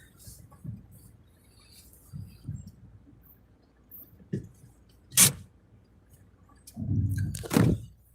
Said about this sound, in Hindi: गाड़ी पार्क कर देता हूँ मैं।